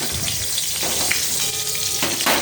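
Green and red chillies fry in hot oil in a wok, giving a steady close sizzle with a brief louder crackle near the end, no voices.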